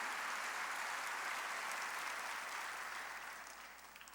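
A church congregation bursts into applause during a worship service, a thick wash of many hands clapping that holds steady, then gradually fades toward the end.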